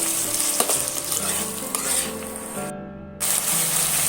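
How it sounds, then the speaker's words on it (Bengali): Tomato paste fries in hot oil in a pan, a steady close sizzle with scraping stir strokes, briefly cut out before resuming. "সেটা আমি তেলের মধ্যে অ্যাড করে দিলাম দিয়ে আমি এইভাবে কিছুক্ষণ ধরে বসাতে থাকবো"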